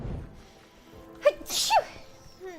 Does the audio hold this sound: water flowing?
no